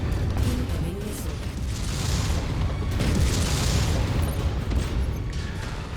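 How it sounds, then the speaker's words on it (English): A missile hits with a deep, rumbling boom in the MechWarrior 5 mech combat game, followed by layered low blasts and mechanical clatter that swell and roll on loudly through the whole stretch, with no talk over them. "Incoming missile."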